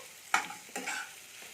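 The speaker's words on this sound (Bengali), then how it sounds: "পেঁয়াজটাকে আমি একটু ভাজতে দেবো" Onion frying in a pan: two quick stirring scrapes over a soft, quiet sizzle, heard close with nothing else around.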